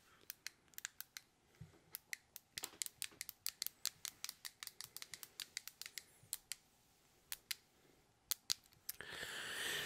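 Stress cube buttons are pressed again and again, giving sharp, close, dry clicks in irregular bursts over a quiet background, with a short rustling handling noise at the very end.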